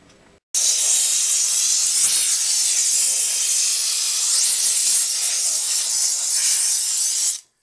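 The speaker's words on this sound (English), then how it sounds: "That little steam cleaner that we got from Harbor Freight, it works great." A Harbor Freight steam cleaner hisses loudly and steadily for about seven seconds while cleaning motorcycle parts during an FZR restoration, starting and stopping abruptly, with no voices.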